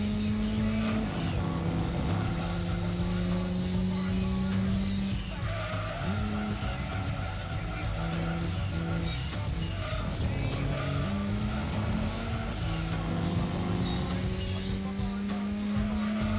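A BTCC touring car in Gran Turismo 2 races along with a steady, loud engine drone and repeated squealing tires through corners, close and continuous.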